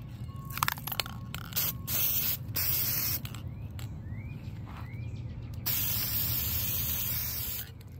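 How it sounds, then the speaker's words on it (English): Aerosol spray paint hisses onto a composition notebook in a long, steady burst lasting several seconds, with brief breaks and a soft scraping rattle near the start. "And spray."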